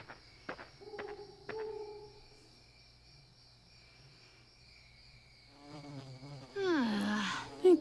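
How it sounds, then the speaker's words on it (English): Buzzing insects in the Fire Emblem: Awakening game at dusk, a faint thin drone with a few sharp clicks early, then a louder swell of chittering and bright squeaks near the end. "Noisy, disgusting bugs that buzz around and crawl all over and bite you"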